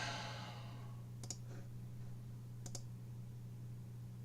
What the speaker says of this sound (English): Sorry, I'm clicking all over the place.